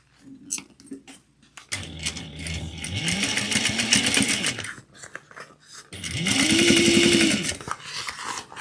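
A sewing machine stitches a 1/4-inch seam on a mini holiday stocking made with cork. It runs in two close, steady bursts a few seconds long, each rising and falling in speed.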